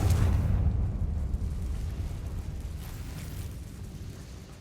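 A Confringo fire spell explodes in the Hogwarts Legacy video game, a loud low boom that opens the clip and then rolls on in a long, rumbling decay with no voices.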